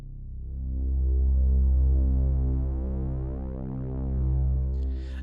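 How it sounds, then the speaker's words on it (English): A very low, sustained synth drone throbs steadily in a Blue Archive track, swelling and easing in slow waves with a faint brighter accent near the end. "we have this really low synth sound"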